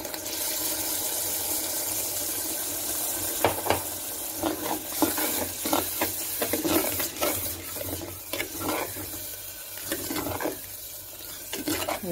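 Ground tomato sizzles and bubbles in a clay pot while being sautéed for a Kerala-style seer fish curry, a steady close frying hiss with occasional stirring scrapes and no speech.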